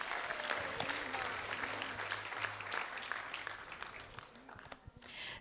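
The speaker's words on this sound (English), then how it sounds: "So let's give them one more round of applause." Another round of applause rises from a crowd at a Sri Radhashtami temple celebration, steady clapping that thins toward the end, with a faint held tone in the background and a brief voice.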